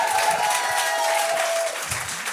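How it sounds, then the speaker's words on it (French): Steady applause from an awards-show audience, dense and continuous, with a faint voice tone drifting through the first part of the clapping. "Applaudissez-les, câlisse!"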